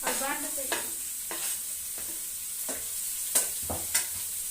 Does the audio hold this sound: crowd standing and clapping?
no